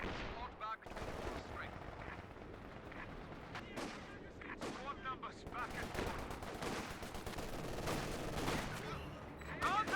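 Gunfire in the video game Company of Heroes 2 during a replay battle: dense rifle and machine-gun fusillades with sharp repeated shots and bursts, running continuously under a commentator's talk.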